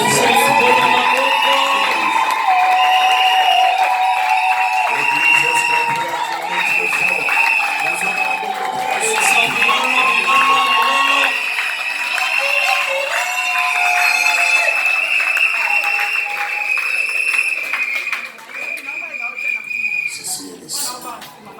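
Wedding guests at a nuptial celebration cheer, whoop and applaud loudly and continuously, a dense crowd roar with high shouts and whistles rising over sustained clapping, easing slightly near the end.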